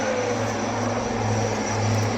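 An HAL Advanced Light Helicopter flies during a Navy Day display at Visakhapatnam, heard as a steady, loud whirring engine roar with a continuous low hum, without speech.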